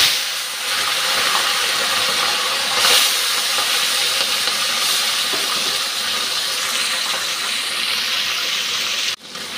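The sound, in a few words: small fish coated in turmeric and salt frying in hot oil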